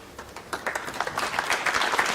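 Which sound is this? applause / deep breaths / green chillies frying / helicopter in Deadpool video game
applause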